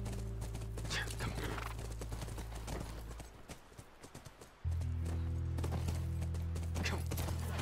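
A horse in the video game The Last of Us Remastered clip-clops and whinnies over a low, droning game soundtrack, with a quieter break midway before the steady hum returns.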